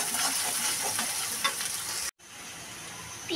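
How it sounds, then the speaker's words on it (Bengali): Chopped onion and garlic frying in oil in a pan, making a close, steady crackling sizzle with soft stirring scrapes. The sound drops out briefly at the midpoint, then resumes more quietly. "পেঁয়াজ আর রসুন ভেজে নেব।"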